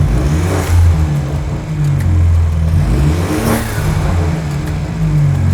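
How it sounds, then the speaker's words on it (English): A BMW F30 with the B48 engine and stock intake revving at idle, a steady loud mid-pitched drone swelling through two or three blips and easing back. "Josh here, the car's owner, is going to show us what it sounds like before and then after"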